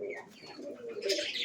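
Madrasi pigeons coo softly in a short, close burst, low murmuring calls with faint chirps mixed in.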